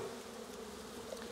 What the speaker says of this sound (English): we're going to shake these bees off the frame